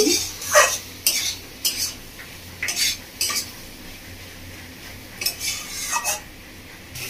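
Ridge gourd and prawn curry is stirred in a pan, with repeated scraping and clinking of a metal spoon against the pan in an irregular rhythm over a low sizzle.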